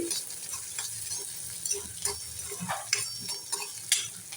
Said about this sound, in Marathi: कांदा चांगला लाल होईपर्यंत परतून घेणारे